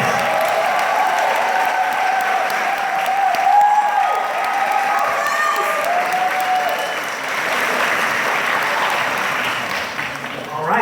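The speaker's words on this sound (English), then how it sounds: "Give a huge round of applause to Nancy Cartwright." An audience at a fan panel claps for a guest, with steady sustained applause for about ten seconds that swells slightly and tapers near the end.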